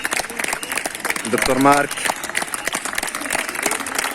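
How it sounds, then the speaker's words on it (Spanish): Hospital staff at Sant Joan de Déu Martorell get steady applause from a gathered group, many hands clapping in a dense continuous patter at moderate distance, with someone speaking over it. "estos aplausos sirven para tomar y para alimentar los ánimos"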